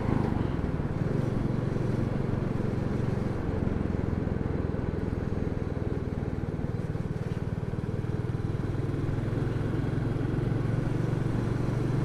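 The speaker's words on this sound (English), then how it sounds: "For a single cylinder thumper, it does have a lovely sound." A Royal Enfield Classic single-cylinder motorcycle engine idling close by, a loud, steady low thumping drone that holds evenly throughout with no speech over it.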